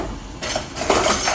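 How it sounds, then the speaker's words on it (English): A utensil scrapes and clinks against a pot while Jamaican curry chicken is being stirred. The few metallic scrapes are short, loud and close. "And I'll stir this up."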